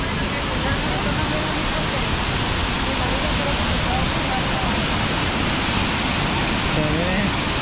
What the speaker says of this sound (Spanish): Checa nomás el ruido que genera este río.